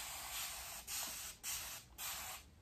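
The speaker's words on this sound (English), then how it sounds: "Spraying it down some more." A spray bottle of water mists hair during a wash-and-go curl styling routine, with four short bursts of hissing spray, each lasting about half a second, close and fairly loud with brief pauses between.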